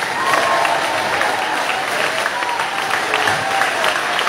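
A church congregation claps steadily, a dense patter of applause lasting a few seconds with no pause.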